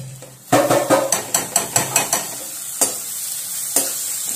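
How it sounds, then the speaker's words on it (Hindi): Spice paste with onion and tomato sizzles in oil while a spoon scrapes and knocks against the pan in a quick series of stirring strokes. The strokes slow to a few sparse knocks over a constant background fry. "इस मसाले को थोड़ा सा प्याज के साथ तेल में थोड़ा सा भून लूंगी"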